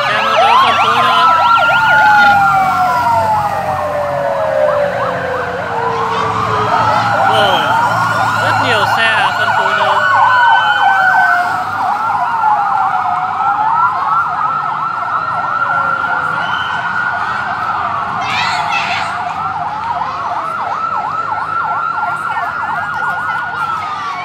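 Several police and escort vehicle sirens wail loudly and continuously, their overlapping rising and falling tones sweeping back and forth, leading a 2019 bike race into Điện Biên Phủ city with motor traffic rumbling beneath.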